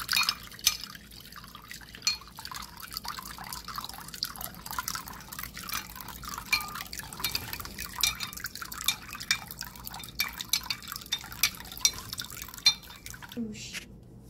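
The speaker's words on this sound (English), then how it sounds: "Now you can mix the water, Ali." Liquid swirls and clinks against a glass as apple cider vinegar and honey are stirred into water, with repeated small taps and splashes at a steady pace.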